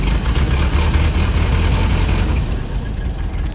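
Idling engine of a 1926 Ford Model T touring car with one misfiring spark plug, a steady, close, low rumbling chug that continues throughout.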